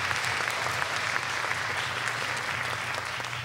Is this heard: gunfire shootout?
no